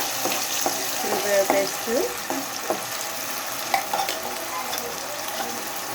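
Prawns and potatoes fry in a pan while being stirred: a constant hiss of sizzling oil with repeated scraping strokes of a spoon, close and moderately loud, with a brief spoken phrase.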